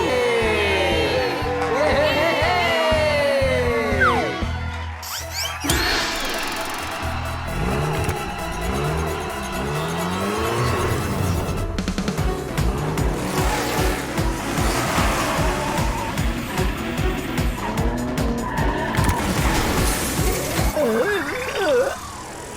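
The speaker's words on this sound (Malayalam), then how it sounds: "വണ്ടി ബൾട്ടി അടിച്ചു. പിന്നെ കൊരകൻ റേസ് ചെയ്ത് ഔട്ടായി." A cartoon race car skids and overturns, with revving engine whines, tire squeals and clattering crash effects in a busy animated soundtrack, loud and shifting over about twenty seconds.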